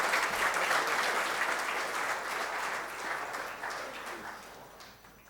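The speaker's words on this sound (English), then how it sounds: "may I request all of you to give her a thundering applause" Sustained audience applause fills a hall at the inauguration of a Japan culture centre in Ahmedabad, loud and dense at first, then slowly thinning toward the end.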